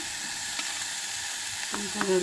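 Finely chopped onion and green chillies frying in oil for an okra side dish, a steady soft sizzle with a few faint stirring scrapes, quiet and continuous with no talk.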